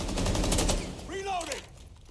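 Rapid gunfire from a Rainbow Six Siege esports match, a burst of automatic shots at the start followed by an excited commentator voice talking over the tail of the exchange.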